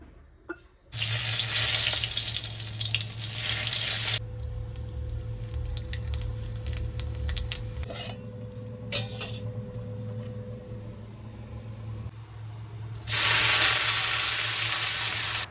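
Leafy greens (shak) hit a hot pan with a loud burst of frying hiss and sizzle, continuing steadily with some stirring, then flaring loudly again near the end.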